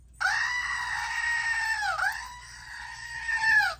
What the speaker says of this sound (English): When the goat screams, there's a finished object.